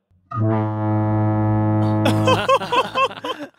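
A giant horn, billed as the world's largest, sounds one long steady low blast heard from a distance, then gives way to a burst of voices and cheering.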